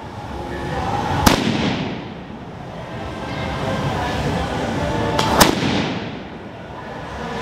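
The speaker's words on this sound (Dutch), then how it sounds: "Na de kanonschoten van schutterij Het Zandakker Gilde Sint-Jan barstte het feest los." Ceremonial cannon shots fired by a marksmen's guild at the opening of a town-centre funfair: two sharp, loud booms a few seconds apart, each trailing into a rolling echo over crowd murmur.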